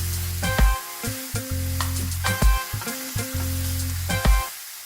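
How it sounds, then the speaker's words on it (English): Cauliflower rice stir-frying in a pan on high heat, a steady loud sizzle broken by repeated scraping and tossing strokes of a utensil against the pan, with no talking. "this is after stir frying for 5 minutes"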